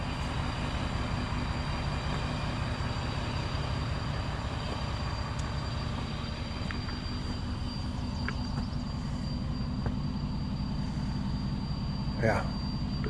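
A small airplane's engine drones steadily and loudly up close during takeoff, a constant humming roar that holds throughout, with voices talking over it.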